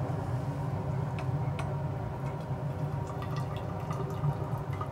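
Hot water poured out for a recrystallization in a chemistry lab, a steady continuous liquid pouring with faint drips, moderately loud and alone.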